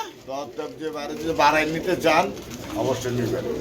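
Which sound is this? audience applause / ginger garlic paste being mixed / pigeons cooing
pigeons cooing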